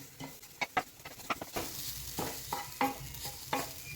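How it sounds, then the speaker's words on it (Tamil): Grated coconut, about half a cup, dry-roasting in a pan while being stirred, with intermittent scraping strokes and a soft steady sizzle underneath, close by. "அரை கப் அளவுக்கு தேங்காய் துருவி வச்சுருக்கிறேன் அதை வந்து போட்டு வறுத்துக்கலாம்"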